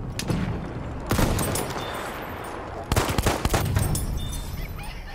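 A cowboy pistol fires in a shooter video game, loud sharp shots in quick clusters with a crackling battlefield of distant gunfire behind, no talking.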